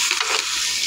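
Onions dropped into a hot pan for frying, a brief, bright hissing sizzle with a soft stirring rustle, close and alone.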